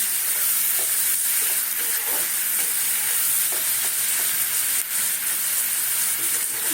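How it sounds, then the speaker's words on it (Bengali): Onions frying in a pan for a rohu fish curry, a loud constant sizzle with a steamy hiss, punctuated by regular scrapes and knocks of stirring. "পেঁয়াজগুলো একটু ভাজা ভাজা হয়ে যাবে তারপরে মশলা পেঁয়াজটা ভাজা ভাজা হয়ে গেছে"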